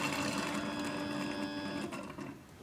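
Roborock S7 Max Ultra docking station washing its mop, a faint mechanical whir and hum with a rhythmic motor buzz, steady then tapering off near the end.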